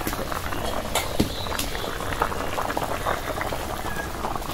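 Water bubbling at a steady boil in a pot of potatoes, a continuous soft liquid churning with scattered small pops, close and moderately quiet throughout.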